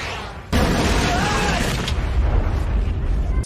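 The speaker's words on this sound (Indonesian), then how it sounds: "tiba-tiba sebuah ledakan menghantam kedai hingga terjadi kebakaran dan melukai beberapa orang" In the film Rurouni Kenshin: The Final, a shell fired from a hill slams into a shop and sets it ablaze. A sudden loud blast gives way to a sustained heavy roar that lasts about three seconds.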